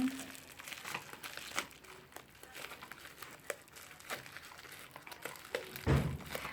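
Plastic packaging bags crinkle and rustle in irregular bursts up close as a Mi InFace Sonic facial cleansing device is unboxed, with a few soft thumps.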